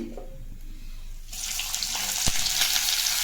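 Onion hits hot oil already tempered with cumin, dried chili and bay leaf for ghugni: after a quiet moment a sudden bright sizzle erupts and keeps crackling loudly and close, with a sharp clatter midway.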